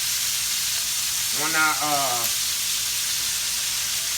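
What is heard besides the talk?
onions frying in a pan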